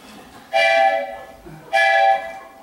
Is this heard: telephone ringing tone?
no